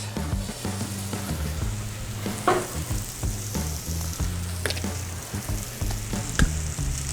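Vegetables sizzle in oil on a 36-inch Blackstone griddle, a steady close crackle with occasional sharper pops and spatula scrapes, under a low, constant hum; no voice.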